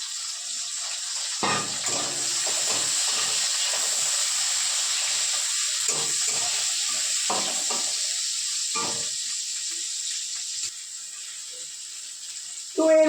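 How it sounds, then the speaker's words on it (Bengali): White cumin seeds and chopped tomato sizzle in hot oil while a Bengali fish curry is being cooked. A steady bright hiss runs throughout, with scattered clinks and faint voice-like sounds now and then. "সাদা জিরে ফোড়ন দিচ্ছি। আর এই টমেটো কুচি দিয়ে দিচ্ছি।"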